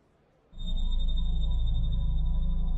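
An electronic signal tone switches on abruptly and holds as a steady, rapidly pulsing drone with a high whine above a heavy low throb, loud and alone.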